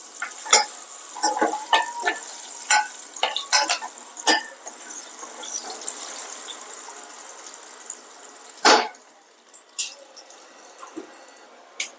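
Green chillies sizzle and fry in a pan for toor dal with tomato, with scattered clinks and scrapes of stirring over a steady frying hiss, up close with no talk.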